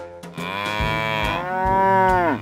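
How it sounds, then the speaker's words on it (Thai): Cattle in a cow pen give a long, loud, drawn-out moo, followed by a second sustained moo that rises and falls, close and without talk. "เอาล่ะคงต้องพาวัวพวกนี้ออกจากคอกก่อน"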